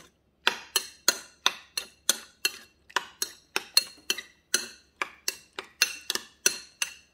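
Sour cream, mayonnaise and lemon juice being mixed in a bowl for kilawin, a brisk run of sharp utensil clicks and taps against the bowl in an even rhythm, close and alone.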